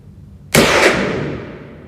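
A single sharp .22 gunshot fired with CCI Mini Mag ammunition cracks loud and close after a moment of quiet, then rings out in a long fading echo.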